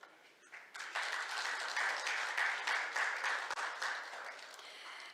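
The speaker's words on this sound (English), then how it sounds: "please welcome him with a big round of applause" Audience applause welcoming a keynote speaker at the 2023 Seoul S&T Forum, rising quickly into steady, sustained clapping from a sizable crowd that holds at an even level throughout.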